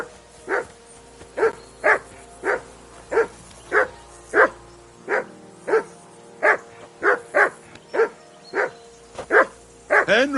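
A dog barks repeatedly in a video game, about fifteen sharp, evenly spaced barks over a steady low background hum, fairly close and loud, ending with a brief rising yelp.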